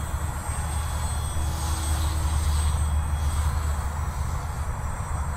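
A Blade 150 S RC helicopter hovers at roughly three-quarter throttle, giving a steady whining rotor and motor drone with a high-pitched tone, constant and fairly close.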